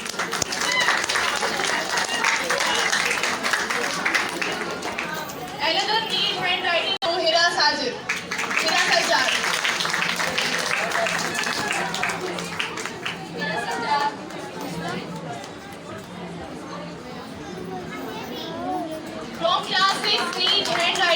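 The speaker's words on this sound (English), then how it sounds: "Please clap for her." Audience at a school annual prize distribution ceremony clapping amid lively children's chatter and crowd noise, the applause rising and falling in waves with voices throughout.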